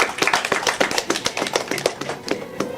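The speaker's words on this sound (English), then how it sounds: "One more round of applause for Chef Goat" A short burst of applause from a small group at an Overcooked 2 competition, quick irregular claps close by, with no speech.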